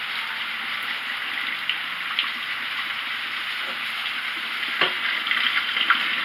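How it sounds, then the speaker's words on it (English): Cooked pasta pours out of a pot with a locked strainer lid, giving a steady rushing gush of water that runs throughout with a few small knocks near the end, fairly close. "So I'm going to take this pasta and I'm going to drain it"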